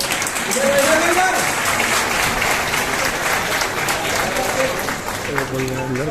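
Sustained clapping from an audience at a ceremony distributing house keys to Pradhan Mantri Awas Yojana beneficiaries, loud and steady, with an amplified announcer's voice talking over it and continuing near the end.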